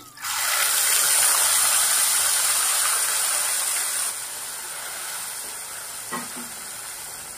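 Onion and tomato paste hits a hot pan for a fish curry, bursting into a loud, steady hiss that eases after a few seconds into a lighter sizzle, with a brief scrape of stirring.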